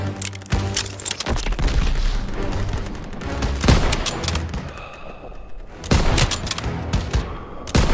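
Gunfire in the Call of Duty WWII video game rattles in repeated bursts and heavy booms, loud and close, with a brief lull before another volley.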